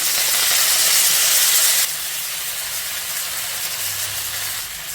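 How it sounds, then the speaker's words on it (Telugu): Coriander leaves fry in oil over a medium flame, giving a steady, close sizzling hiss that is loud at first and then settles slightly quieter but continuous. "ఇంకా మీడియం ఫ్లేమ్లోనే ఈ కొత్తిమీరని ఇలా కలుపుకుంటూ ఒక 2 నిమిషాలు ఫ్రై చేసుకుంటే సరిపోతుంది"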